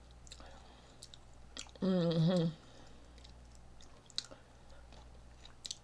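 Someone eating yogurt crunch, with soft, faint crunchy chewing clicks scattered throughout and a short spoken word in the middle.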